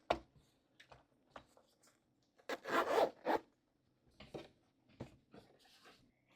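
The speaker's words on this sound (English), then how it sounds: "zip it up and go" Several short zipper pulls on a stationery storage pouch, with quick scratchy bursts near the start and a longer, louder zip in the middle, followed by a few lighter rasps and handling noises, close and alone.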